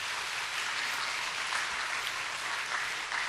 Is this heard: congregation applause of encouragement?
yes